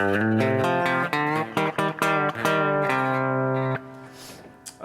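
Electric guitar lead from the solo of a country song, a country-style run of quickly picked and slid notes, loud and close, ending in a short fade, with no voices.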